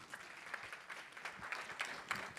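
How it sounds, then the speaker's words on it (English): Faint, distant applause from an audience at a Ghana-Canada investment summit, a soft, slightly uneven patter of clapping heard through a quiet hall ambience. "Ladies and gentlemen, please give her a round of applause again."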